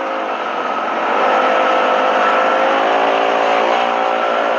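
A motorcycle engine revs up loudly and holds a steady high roar close by, with no talk over it.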